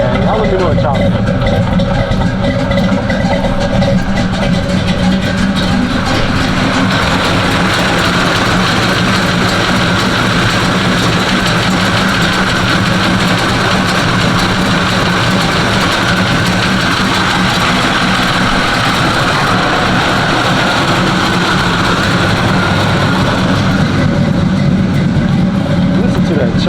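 A Chevy box car engine idles with a choppy, lopey cam rhythm, steady and close for the whole stretch, loud low rumble with uneven pulses throughout.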